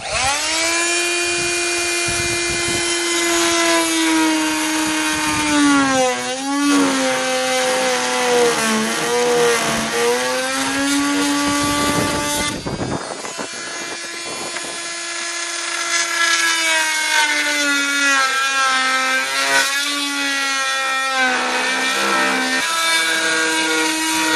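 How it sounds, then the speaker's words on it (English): A carbide blade on a power saw cuts concrete for a van build's oven fireproof surround, a loud, close whining grind that bogs and recovers, then pauses briefly before cutting resumes. "Carbide bit blade works great, and as you can see, it cuts very quickly."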